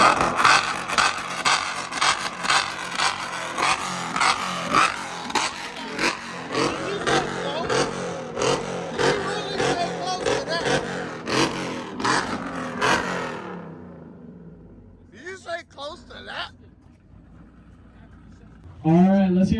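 A Ram truck revving at a car meet, a loud sustained engine roar with rapid pulsing rising and falling for about thirteen seconds before cutting off, followed by cheering and crowd voices.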